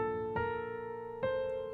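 Chord four in the middle section of In the Bleak Midwinter, played at beginner level as two soft, ringing chord strikes with a sustained tail between them, quiet and with no speech.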